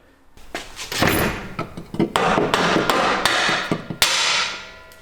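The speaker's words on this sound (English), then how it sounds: "A couple taps of the mallet should be good." A rubber mallet strikes the subframe bushing on a Lexus IS300 / Toyota Mark II, a run of sharp, close thuds and knocks at an uneven pace with a few heavier blows.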